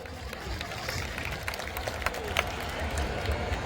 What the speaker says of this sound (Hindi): एक बार जोरदार तालियां उन सभी के लिए